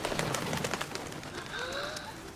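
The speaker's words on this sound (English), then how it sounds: "What are doves symbolic of?" Doves cooing softly at a moderate distance, a few short repeated calls set against a faint background.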